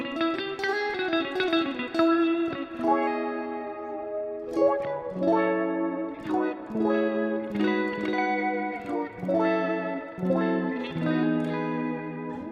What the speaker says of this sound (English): So I'll play a little bit so you can hear kind of the preset I came up with.